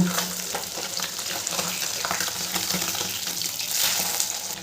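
Vigorous frying sizzle of fish in oil, dense crackling and spattering throughout with occasional scraping stirs, no talking.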